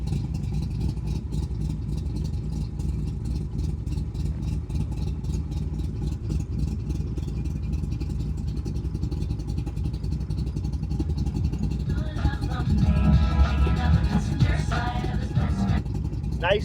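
A 1969 Chevrolet Corvette big block with side pipes idles up close in a steady, rumbling burble with a slight clatter, swelling louder briefly near the end.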